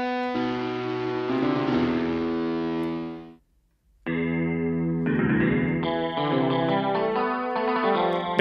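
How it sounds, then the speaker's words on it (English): Sustained lead guitar tones from a free guitar software plugin ring with chorus and effects, one long held note, a brief silence, then a run of stepping notes, loud and alone. "Bit of like a lead type sound too."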